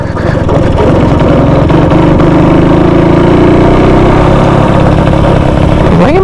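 A loud, steady engine of a 1938 NSU Quick 98 motorcycle after shifting up, riding forest tracks, running at an even, low chugging rhythm, holding its pitch before a brief rise near the end.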